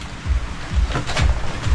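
Water thrown from a bucket onto plants outdoors at a house construction site, heavy splashing sloshes arriving in several loud, repeated bursts close to the microphone.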